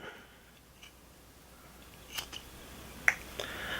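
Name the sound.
Leatherman Wave Alpha multitool scissors cutting paracord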